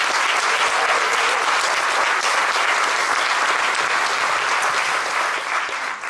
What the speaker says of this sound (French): J'aimerais ça que vous applaudissiez Véronique Boucher